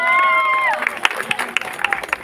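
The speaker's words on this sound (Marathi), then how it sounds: "जोरदार टाळ्या वाजवा यांच्यासाठी एकदा." Audience at a Navratri festival paithani event claps for a winning couple; a sustained tonal sound fades and gives way to scattered, irregular claps and crowd noise at moderate level.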